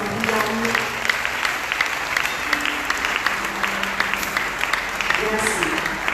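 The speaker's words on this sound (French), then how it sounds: "Qui demande l'église d'apprêter pour nous faire un applaudissement." Congregation applause during a church worship service, steady and dense across the whole stretch, with scattered voices and sung or spoken tones underneath.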